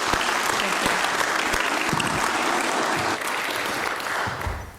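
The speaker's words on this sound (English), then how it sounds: "So give a good applause for Leander about leveraging procedural knowledge" Sustained, dense applause from a conference audience for speaker Leander, steady and loud throughout with occasional individual claps audible, fading slightly toward the end.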